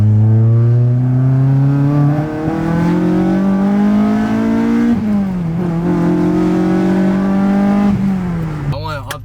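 A tuned Acura TSX accelerates hard from inside the car, its engine note climbing loudly through two pulls with a brief dip between them, then easing off at the end; a voice talks underneath.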